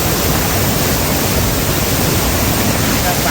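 High-pressure water gushes and splashes at a temple shrine, a loud, dense, continuous rushing roar close by with no pause.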